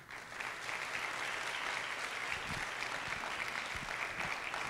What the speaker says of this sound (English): The first person, and I think we need to give her a resounding round of applause, is Lata Venkateshwar.